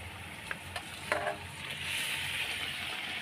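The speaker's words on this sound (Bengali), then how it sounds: "আমি এখন মাছগুলো সব দিয়ে দেবো, একদম তেল ছেড়ে এসছে" Pabda fish sizzling as the pieces drop into hot oil in a home kitchen, with soft crackling frying and a few light clinks of utensils, heard at a quiet, close level.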